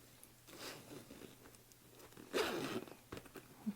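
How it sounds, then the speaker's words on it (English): Zipper teeth rasp briefly as a pull is fitted onto the zipper tape of a sewn fabric bag, with a louder burst of scraping midway followed by small clicks and handling noise. "Now the last thing we need to do here is to install our zipper pull."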